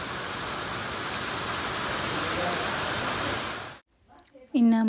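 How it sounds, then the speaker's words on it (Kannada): Moderate rain falls steadily in a village, a loud, even hiss lasting several seconds before it cuts off abruptly, and a voice then begins speaking. "ಮಳೆ ಬರತೈತೆ ನೋಡ್ರಿ"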